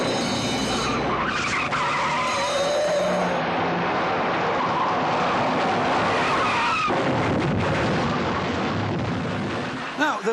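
Two cars in a chase from The Sweeney, one an S-type Jaguar, skid loudly with screeching tires and roaring engines in a long, continuous burst that cuts off abruptly at the end.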